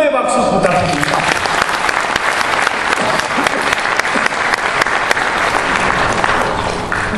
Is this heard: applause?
yes